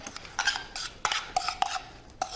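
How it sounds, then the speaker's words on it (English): A utensil stirring seasoning and salt into a pan of sriracha shrimp and garlic noodles, giving close, irregular metallic clinks and scrapes in short bursts. "And then give it all a stir."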